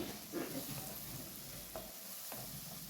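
Onions frying in a pan with chili powder being stirred in, ready for a dried fish curry: a steady close sizzle runs throughout, with a few soft scraping stir strokes and no talking.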